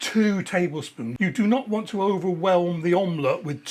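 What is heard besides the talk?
No distinct noise like a dog, phone or traffic.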